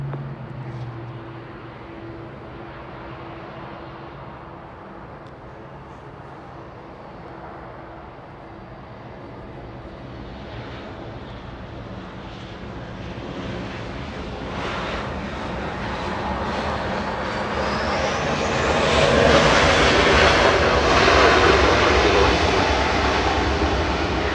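A Southwest Airlines jet airliner arriving from San Jose at Los Angeles International Airport, its engine roar building from a distant rumble to a loud, broad whine as it nears, alone without voices.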